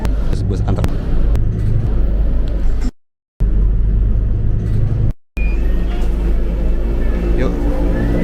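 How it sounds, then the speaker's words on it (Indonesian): Inside a Scania articulated TransJakarta bus on Corridor 2 at night, a loud steady engine and road rumble fills the cabin, broken by two brief silent gaps. "Ini adalah bus yang sasisnya Scania dan merupakan bus gandeng ya"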